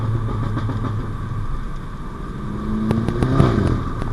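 A loud VW Polo GTI driving at night, its engine rumbling steadily with a burst of sharp exhaust pops and crackles near the end, close and continuous throughout.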